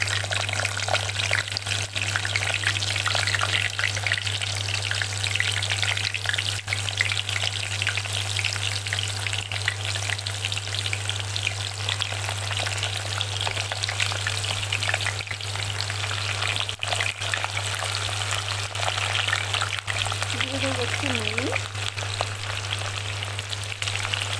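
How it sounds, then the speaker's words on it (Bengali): Potato pieces fry in hot oil, a dense, steady crackling sizzle that holds for the whole stretch over a constant low hum, with faint stirring and bubbling throughout. "এবারে আমি এই টুকরো করে রাখা আলুগুলোকে একটুখানি ফ্রাই করে নেবো"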